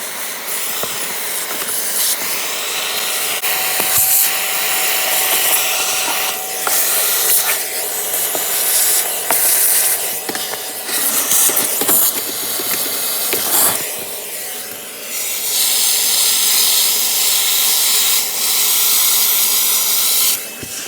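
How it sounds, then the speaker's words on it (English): A vacuum cleaner sucks mouse droppings out of the heater ducts of an Opel GT, giving a loud, harsh hiss that surges and drops as the nozzle scrapes and rubs along the ducts. "I'm about to come in here with a vacuum and get up all of this mouse crap."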